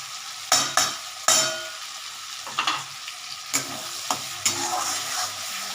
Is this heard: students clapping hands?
no